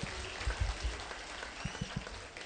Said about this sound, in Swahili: Mpigieni makofi mzuri.